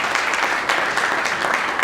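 A room full of people at a notarial press conference applauds to welcome a guest, loud close-up clapping holding steady for a couple of seconds.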